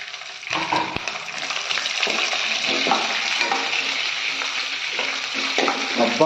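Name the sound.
green chillies frying in tempering for tamarind pulihora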